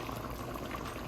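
Rice boils in a pot on the stove with a steady, close bubbling and a dense liquid roil that does not let up.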